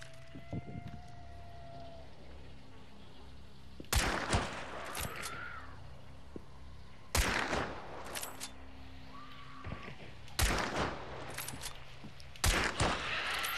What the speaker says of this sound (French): J'entends des tirs d'autres joueurs.